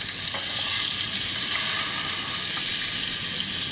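Mackerel caught from the shore sizzles in a pan, a steady, close frying hiss running without a break.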